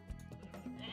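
A goat in Age of Mythology Retold gives a short, quiet bleat with a little game background noise around it.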